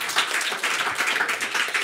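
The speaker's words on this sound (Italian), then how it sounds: "Facciamo un applauso." Quick, dense audience clapping during a talent league quarterfinal, brief and fairly loud with a lively pulsing texture and no voices over it.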